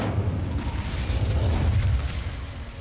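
An Incendio fire spell is cast in Hogwarts Legacy, giving a steady, heavy, low roaring whoosh that holds evenly for a few seconds with no voices over it.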